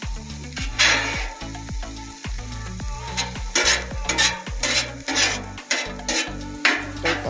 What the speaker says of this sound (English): You're gonna mix your sausage and your eggs up.